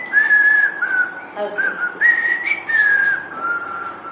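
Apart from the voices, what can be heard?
person whistling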